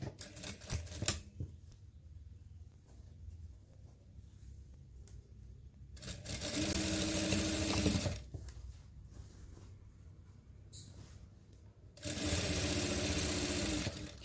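A sewing machine stitches an anatomical waistband onto a pair of trousers in two loud, steady bursts of about two seconds each, separated by quieter handling of the fabric, close up and with no speech.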